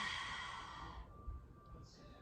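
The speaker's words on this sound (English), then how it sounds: "Take a deep inhale. Open mouth, exhale." Breath rushes out in one deep open-mouth exhale during a workout stretch, close and soft, fading into quiet after about a second.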